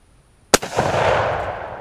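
A single sharp gunshot fired at a target near a failed heater at an outdoor range, loud and close, followed by a long rolling echo that fades slowly.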